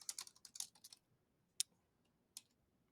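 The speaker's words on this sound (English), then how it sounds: "typing too fast" Fast clatter of typing on a computer keyboard: a quick burst of keystrokes for about a second, then two isolated clicks after a pause, faint and close in a quiet room.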